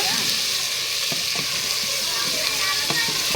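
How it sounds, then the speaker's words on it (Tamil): Ginger and garlic sautéing in hot oil for a goat head curry, a steady close sizzle with occasional stirring scrapes and clinks of a spoon against the pan, no talking. "இஞ்சி பூண்டு சேர்த்துக்கலாம் நல்லா மிக்ஸ் பண்ணி வதக்கிக்கோங்க"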